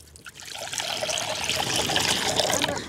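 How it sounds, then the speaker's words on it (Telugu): Water pours steadily into a pot for boiling pieces of shark, a close, continuous trickling splash that swells slightly as the stream keeps flowing. "చేప ముక్కల్ని ఉడకబెట్టుకోవడానికి నీళ్ళు అయితే పోసుకుందాం"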